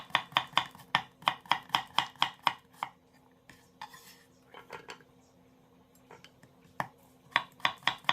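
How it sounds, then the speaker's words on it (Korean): Knife chopping half a zucchini into half-moon slices on a cutting board: fast, evenly spaced crisp knocks in two bursts with a quieter pause between, close and clear. "애호박 반 개, 반달 모양으로 썰어 주겠습니다."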